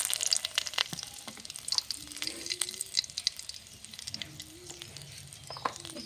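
Dry red chilies and bay leaf crackle and sputter in hot mustard oil, with quick irregular pops over a soft sizzle and faint scraping in the background.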